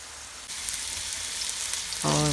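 Turnip slices fry in hot oil with a continuous crackling hiss that grows louder after the first half second, joined near the end by a brief tonal hum.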